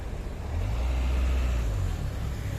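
Heavy bumper-to-bumper road traffic near National Stadium Singapore: a low, close engine rumble that swells and holds before easing, with a constant wash of road noise and no talking.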